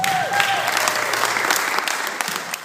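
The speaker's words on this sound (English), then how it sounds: "Give yourselves a big round of applause." Audience at a stand-up comedy show held in a bank applauds steadily, a dense wash of clapping that holds loud throughout and tails off slightly at the end.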